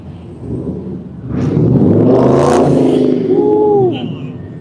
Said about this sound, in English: I think all the hawk trucks make that fucking noise